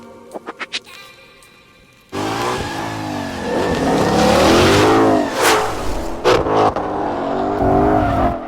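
A Ford Mustang Shelby GT500 accelerates hard from close by, its engine roaring up through the revs, with gear shifts, swells and dips, after a few short honks or chirps at the start.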